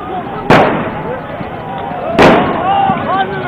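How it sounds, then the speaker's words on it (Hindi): Two loud gunshots ring out at a street clash between PTI and PPP workers outside the DRO office of Keamari district, Karachi, about two seconds apart over a constant crowd din. "फायर का आवाज़, 2 गोलियों के चलने की आवाज़ आई है"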